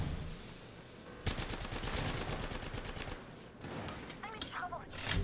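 Incoming gunfire in the Apex Legends video game, a burst of rapid shots starting abruptly and continuing as a dense rattle over background game ambience, with some tonal effects near the end.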